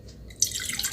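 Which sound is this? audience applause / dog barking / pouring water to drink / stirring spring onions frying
pouring water to drink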